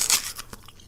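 A crisp green apple bitten near the mic, giving one sharp crunch followed by a few smaller crackling snaps as the bite tears free, with no talking.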